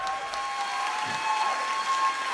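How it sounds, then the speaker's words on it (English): Applause from the crowd at an MMA Melee Combat Championship event for two fighters, a dense, steady wash of clapping that fills the hall evenly. "a round of applause for both of these athletes"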